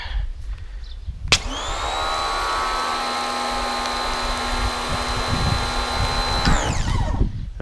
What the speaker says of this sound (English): So I think I'm all set up here for the pressure washer.